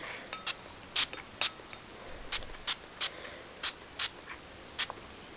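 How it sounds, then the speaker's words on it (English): Quick, sharp hisses from a spray bottle spraying dye onto lace and seam binding, about a dozen short bursts spaced irregularly with brief pauses between them, close by and fairly quiet. "Basically, how I do it is I just spray in spots."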